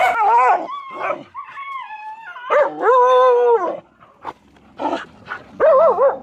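Several dogs howl and bark together at a dog rescue, long wavering howls rising and falling with short yelps and whimpers between, loud and close, with no talking.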